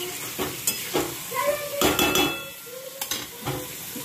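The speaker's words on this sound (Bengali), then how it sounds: "ভালোভাবে নাড়াবো" Cauliflower being stirred with fried spices in a pan, a light sizzle broken by repeated scraping strokes and occasional clinks of a utensil against the metal, close and without talk.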